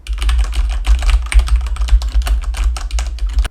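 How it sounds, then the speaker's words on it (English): Computer keyboard keys clatter in quick, uneven bursts of typing, picked up loud and close by a FiFine K683A desk microphone, with soft thumps from the desk and no voices. "You're also going to hear my key typing a lot more."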